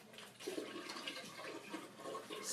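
Sparge water pours steadily over spent grain in a homebrewing setup, a soft continuous splashing rush that holds at an even, moderate level throughout.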